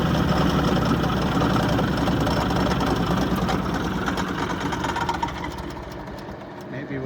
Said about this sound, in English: you can hear the grinder chipper still running